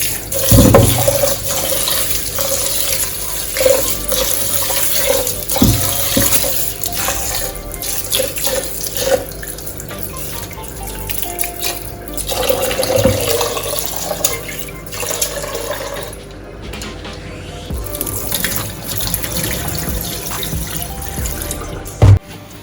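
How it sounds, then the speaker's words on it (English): Rice being rinsed under a running kitchen tap for Jamaican-style white rice, a continuous loud splash of water with shifting gurgles and sloshing as the grains are swirled, alone without talk for over twenty seconds. "Here's my rice, properly washed."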